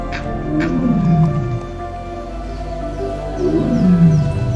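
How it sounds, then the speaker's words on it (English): A large dominant male tiger roaring in the jungle of Kanha, India: two deep, drawn-out roars a few seconds apart, loud and close, over a low steady background. "it's hard to describe the feeling of hearing a tiger roar from a few meters"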